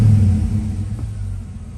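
A low, steady engine rumble from a Cadillac idles evenly for a couple of seconds, close by and without revving, after earlier sputtering.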